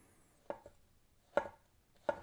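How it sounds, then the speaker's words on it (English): A knife slices a vegetable thinly on a cutting board for sukiyaki tofu, giving three distinct, crisp chops spaced apart, close and fairly loud against a quiet background. "And we'll cut it thin."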